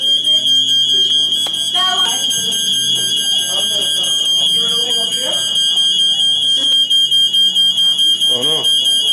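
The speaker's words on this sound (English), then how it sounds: "Fire smoke alarms for the kerosene heater." A smoke alarm set off by a kerosene heater sounds as a loud, steady high-pitched electronic beeping that runs throughout, while people talk over it.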